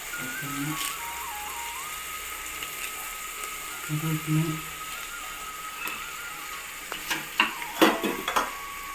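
Curry leaves sizzle faintly in hot oil for a traditional mutton curry, a low steady frying hiss under a few soft stirring clinks and light scrapes that grow busier toward the end.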